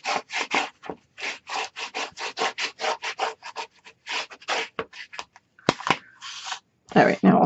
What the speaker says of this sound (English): And again, we're going to burnish.